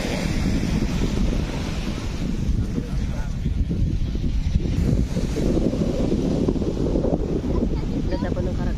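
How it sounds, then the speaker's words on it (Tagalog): Rough surf and gusting wind at Badalona beach, a loud continuous roar of breaking waves with wind buffeting the microphone throughout. "Medyo maalon, mahangin."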